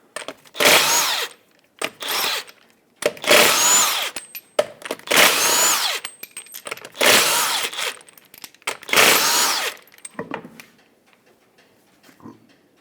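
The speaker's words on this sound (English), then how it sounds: "Use a 21mm socket, and with the vehicle raised and supported safely, remove all 5 lug nuts and then pull the wheel off." Power tool bursts spinning lug nuts off a raised Toyota Matrix front wheel with a 21mm socket, about six loud buzzing runs of a second or so each, separated by short pauses, near and alone.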